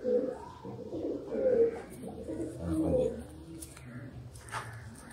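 Teddy pigeons coo in low, soft, repeated rolling calls, heard close and mixed with someone talking nearby.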